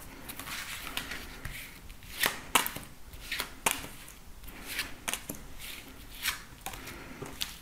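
A deck of tarot cards is shuffled close by for a nine-card spread, giving soft repeated riffles and sharper snaps in an irregular rhythm at low volume, with no talking.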